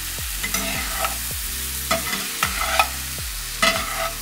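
Beef for a Philly cheesesteak frying on a hot surface, a steady sizzle broken by repeated sharp scraping and stirring knocks at irregular intervals, close and fairly loud with no talking.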